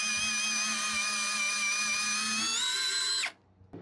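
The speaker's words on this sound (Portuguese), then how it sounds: "Mas ainda estou fazendo a perfuração com uma mão só." A Hanabi LJ2022 cordless drill with a hybrid chuck boring with a 19 mm four-point bit, a steady high whine running for about three seconds before cutting off abruptly, close and alone.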